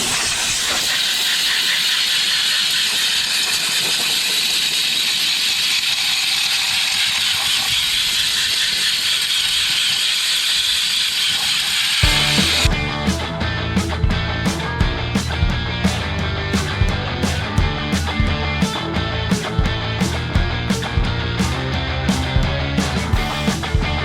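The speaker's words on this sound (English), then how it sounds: "We're gonna use compressed air from the big compressor and blow all this rust out of the hydraulic cooler" Compressed air from a large compressor blasting rust, dirt and pine needles out of a Bobcat skid loader's radiator and hydraulic cooler: a loud, steady roaring hiss that gives way midway to a rhythmic, pulsing mechanical clatter.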